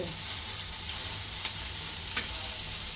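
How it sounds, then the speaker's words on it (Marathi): Okra frying in a pan over a low flame gives a steady, close sizzling hiss throughout, with a couple of faint clicks from stirring. "असेच मी बारीक गॅस करून शिजून घेणारे मोठ्या गॅसवरती नाही मी शिजव एकदम बारीक गॅसवरती फ्राय करून घेणार आहे"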